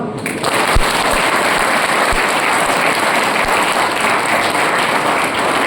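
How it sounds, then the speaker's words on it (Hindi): An audience clapping at a road safety talk in a college hall, a loud, dense and sustained wash of applause that holds steady at full strength through the whole stretch. "ताली बजाओ।"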